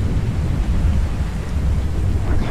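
Thunder and rain in the horror video game Pacify, a deep continuous rumble with steady rainfall hiss, loud and unbroken through the short stretch with no voices.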